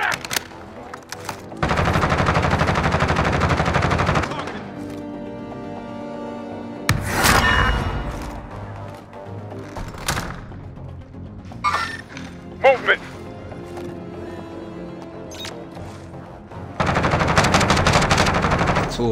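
Automatic gunfire in Call of Duty Rebirth, played on Xbox Series X, with long sustained bursts at the start and end and scattered single shots and impacts between, while players talk throughout.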